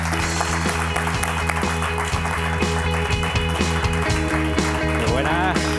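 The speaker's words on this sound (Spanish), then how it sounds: "Así que un aplauso para él." A live audience at a talk on the brain and artificial intelligence applauds a guest speaker with sustained clapping that runs over steady background music.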